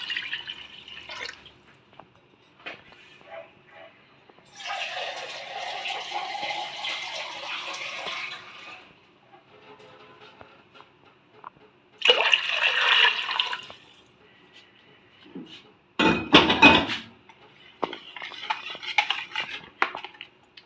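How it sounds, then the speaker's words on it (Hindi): Water splashes and trickles into a metal pot in a few short pours while making kadhi pakora, with clinks of utensils and quiet gaps between. "सबसे पहले मैं इसमें पानी शामिल करूँगी"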